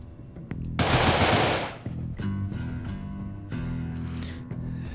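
A burst of loud, rapid machine-gun fire rings out in the game Deadbolt, followed by quieter scattered shots and humming background music.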